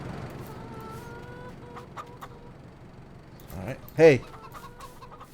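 Chickens cluck in short bursts on a farm in the video game Farming Simulator 22, then a loud rooster-like squawk rises near the end, with someone speaking briefly over the fowl.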